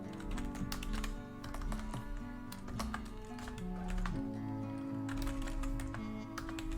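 Rapid, uneven keystrokes on a computer keyboard clatter in bursts during a Linux terminal lesson, set over a steady low hum and tonal background, with no talking.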